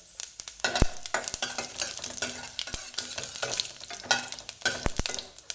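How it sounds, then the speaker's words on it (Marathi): Cumin seeds sizzle in hot oil with cloves, black pepper and cardamom, a close, continuous crackling fry punctuated by quick clicks of a spoon stirring the pan, with no voices. "त्याच्यामध्येच आपण थोडेसे जिरे टाकून घेऊया."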